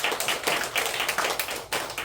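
Audience at a church lecture gives a round of applause, rapid, fairly sparse hand claps in an irregular rhythm at moderate loudness, with no speech.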